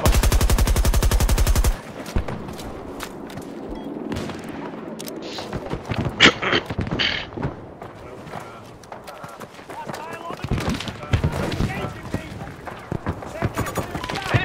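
Repeated loud booming cannon shots from a video game, irregularly spaced, with someone talking over them throughout.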